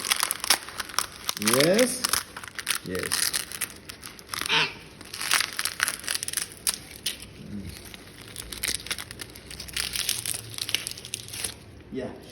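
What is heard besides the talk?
peeling open a dried ridge gourd seed pod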